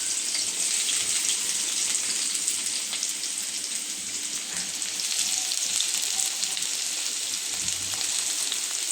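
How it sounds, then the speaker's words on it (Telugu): Onions frying in hot oil in a home kitchen while pasta is being cooked, giving a steady, close, loud hiss and crackle that runs unbroken throughout with no voices. "అయితే ఈ నూనె కాగిన తర్వాత ఉల్లిపాయలు వేసుకోవాలి"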